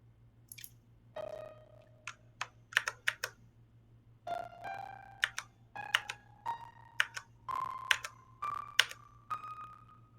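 Keyboard shortcuts pressed on a computer keyboard while editing notation software, heard as scattered close clicks and taps in irregular bursts, with short tonal note playback sounding after some presses.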